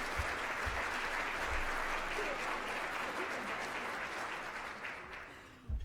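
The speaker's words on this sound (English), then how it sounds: "join me in a round of applause for Liz." A forum audience gives a round of applause welcoming a speaker to the floor, continuous crowd clapping at moderate level that gradually thins toward the end, with a brief bump at the close.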